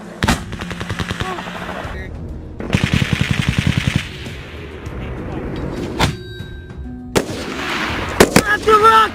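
Bursts of automatic gunfire in a combat zone, rapid rattling volleys separated by sharp single shots and pauses, loud and close, with some shouting mixed in.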